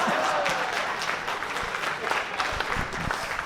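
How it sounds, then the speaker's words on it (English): Applause rises from a comedy club audience, a dense patter of clapping hands that carries on steadily and fairly quietly, with a few scattered louder claps near the end. "Thank you for applauding."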